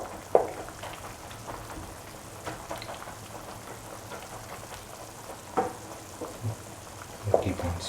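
Green gram and coconut stew being stirred and crushed in a pan, with soft, steady sizzling and frying crackle throughout and a few sharp scraping knocks of the spoon against the pan, near and fairly quiet.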